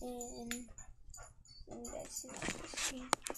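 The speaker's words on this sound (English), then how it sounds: "That's the dog." A dog whimpers in short, high, wavering whines, close by and fairly faint. A person talks in between and over the cries.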